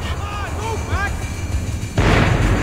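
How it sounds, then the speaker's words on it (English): Long-range gunfire in the video game Max Payne erupts as a sudden loud, sustained burst of blasts about two seconds in, following a quieter stretch with a tonal voice-like sound. "The bullets came from long range."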